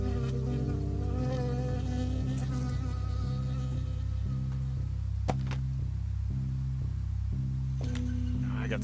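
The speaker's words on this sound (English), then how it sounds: "I got stung by a bee." A bee buzzes in the forest video game Firewatch, a continuous insect drone over a repeating low pulsing bed, with a few sharp knocks scattered through the latter half.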